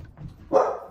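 A dog at a house-sit lets out a single sharp bark partway through, loud and close, after a low murmur of background noise.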